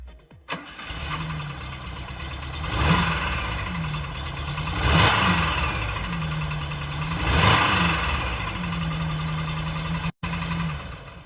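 A Volkswagen Polo Sprint's engine turns over and runs near the microphone, rising in several distinct revs between periods of steady idle, with a brief cutout near the end.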